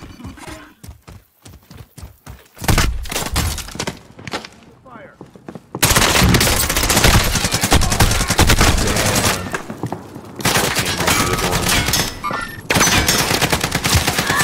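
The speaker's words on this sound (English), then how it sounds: "he's shooting, he's shooting, he's shooting." Call of Duty Warzone gunfire cracks out in fast automatic bursts and scattered shots, loud and close, with gaps of quieter game sound between the volleys.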